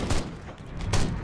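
Soldiers fire guns in the video game Destroy All Humans!, giving two dense bursts of gunfire about a second apart over a steady mid-level background of game noise.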